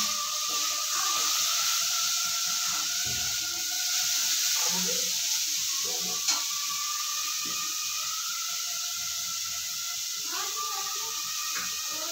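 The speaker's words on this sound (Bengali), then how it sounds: "মাছটা ভেজে নেওয়া হচ্ছে।" Tengra fish frying in a pan gives a steady, close sizzling hiss that runs through the whole stretch, with faint kitchen clatter and a few light knocks over the top.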